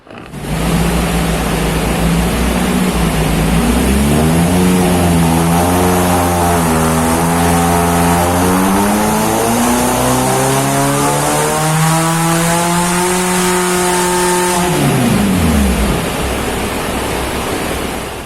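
A car engine on a dynamometer revs steadily under load, its pitch climbing for about fifteen seconds before dropping sharply back to idle, loud and close.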